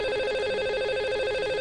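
A phone call placed to a lucky caller on a radio show: a steady, continuous ringing tone at moderate level, unbroken for the full length with no voices.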